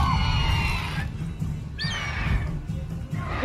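A horse whinnies twice in a synthetic-sounding soundscape from the video game The Witcher 3: Wild Hunt, the calls separated by a low rumbling background with no speech.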